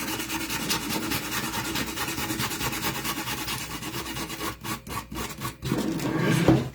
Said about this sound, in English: I'm just going to take my sandpaper now at this point, and I'm just going to distress it a little bit along the edges.